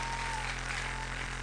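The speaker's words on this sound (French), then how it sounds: "Applaudissez très fort pour les." Church congregation applauding during a French and Lingala service, a steady dense wash of clapping held at an even level throughout, with no clear voices over it.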